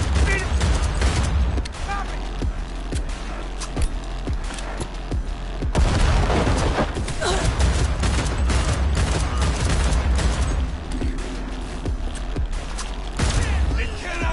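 Dense gunfire rattles on in the Cyberpunk video game, with rapid bursts, booming shots and mechanical clatter layered over game noise and someone talking throughout.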